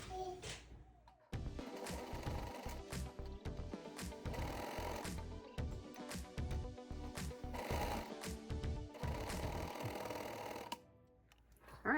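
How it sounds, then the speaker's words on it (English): A serger stitches seams on romper fabric in a fast, rapid-fire mechanical chatter. It starts abruptly, runs close and loud for about nine seconds with slight speed changes, then winds down near the end. "I'm gonna take this to my serger and I'm gonna serge these together at a 1/4 inch seam allowance"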